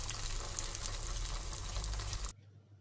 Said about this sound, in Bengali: ছাঁকা তেলেই এগুলো ভাজতে হবে।